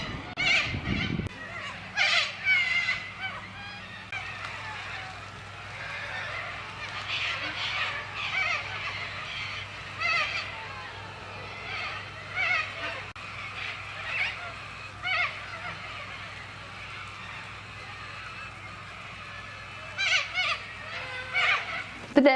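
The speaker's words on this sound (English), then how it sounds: "It's late afternoon now, and that's why birds are so active." Birds call in late afternoon in Australia, loud honking and squawking cries repeating irregularly at a distance, with a person talking throughout.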